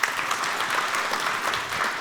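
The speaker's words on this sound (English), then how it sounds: "Applause for Ma for being brave enough" Audience applause at a PHP developer conference for a volunteer who came up on stage, a short burst of dense clapping from a crowd, steady and fairly loud throughout.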